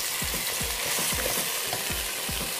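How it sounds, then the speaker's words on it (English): Ground turkey sizzling and frying in a pan, a steady loud hiss with rhythmic scraping strokes of a utensil stirring it, close up. "Drain the pork sausage that's sitting here, and cooking the ground turkey"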